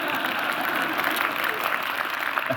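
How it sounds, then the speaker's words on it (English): Brief applause from a morning conference audience in Dallas, a dense wash of clapping that holds steady over a couple of seconds. "People applauding a biography of Dietrich Bonhoeffer at 9 a.m."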